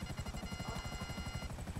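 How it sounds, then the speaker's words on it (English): A helicopter in GTA V thuds with a rapid, steady rotor chop and an overlying engine whine, a continuous rhythmic beating that stays even and fairly close, with no voices over it. "the helicopter was too damaged"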